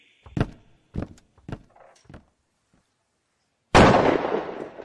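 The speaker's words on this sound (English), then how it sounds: "Oh my God, did he just shoot himself?" A sudden loud gunshot-like blast from a film scene of a character shooting himself, a single sharp crack with a ringing tail, following a few dull thumps and brief scene sounds.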